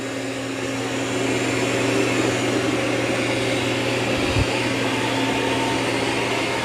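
Dreame X40 robot vacuum running on carpet, a steady close whirring hum with constant suction drone throughout and a brief soft bump near the end.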